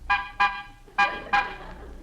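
Car horn honking four times in short separate blasts, a bright, clear toot repeated at a quick, slightly uneven pace, moderately near and alone without voices.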